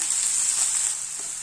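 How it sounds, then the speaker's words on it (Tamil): Tomatoes sizzle steadily as they sauté in a hot pan, a constant close frying hiss with no talking. "தக்காளி நல்லா மசிகிற அளவுக்கு வதக்கிக்கலாம்."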